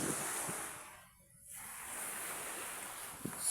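Small sea waves wash continuously along a calm shoreline, a faint steady surf hiss with a brief dip in the middle, heard alone and without talk.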